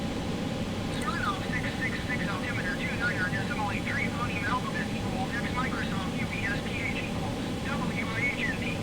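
The four jet engines of a DC Designs Concorde in Microsoft Flight Simulator build at takeoff into a steady, dense roar with a deep rumble, continuous and fairly loud, with a voice heard faintly over it.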